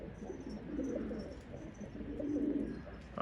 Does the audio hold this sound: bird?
yes